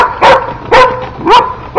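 Dog barking at other dogs passing its yard: three loud, sharp barks spaced about half a second apart, close by, with no talk over them.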